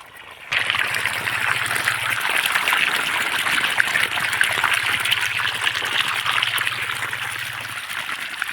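Water from a pump motor gushes steadily into a cumin field, a loud continuous rushing flow that starts abruptly and holds for several seconds, with a low motor hum underneath and no talking.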